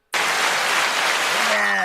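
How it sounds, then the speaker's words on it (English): A short burst of dense crowd applause starts abruptly and holds steady at full volume, with a few whistles rising near the end. "I can use the applause"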